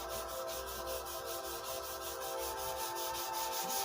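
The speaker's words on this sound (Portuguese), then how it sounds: "mas ele sai com a lixa" Sandpaper rubs primer on a guitar body in a continuous, close, steady back-and-forth scrubbing with a fast repeating stroke rhythm.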